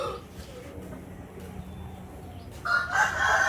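A Vietnamese fighting rooster crows once near the end, loud and close, after a few seconds of low background noise.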